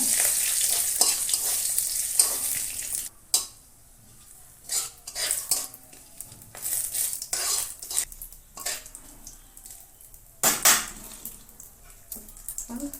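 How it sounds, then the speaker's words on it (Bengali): Bay leaf frying in hot oil for a fish curry with pumpkin greens, a steady close sizzle with bursts of hiss, occasional stirring and utensil scrapes against the pan, no talk. "তেজপাতা, ওটা ভেজে নেব।"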